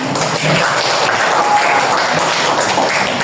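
Students in a classroom clap together in a steady burst of applause, moderately loud and fairly even from start to finish.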